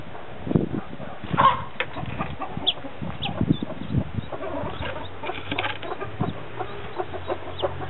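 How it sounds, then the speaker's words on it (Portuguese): A baby chick gives short, high peeps amid scattered clucking from other chickens, the calls brief and irregular against a quiet background. "Deixa eu botar um pintinho também"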